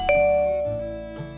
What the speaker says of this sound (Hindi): तभी घर की डोरबेल बजती है।